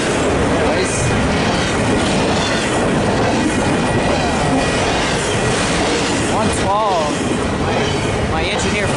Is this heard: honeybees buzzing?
no